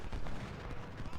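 Dense, continuous gunfire and artillery-like booms from a Civil War battle in the Ultimate General strategy game, a rough unbroken roar with a voice faintly underneath.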